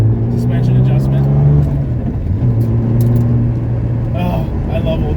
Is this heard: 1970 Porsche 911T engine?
yes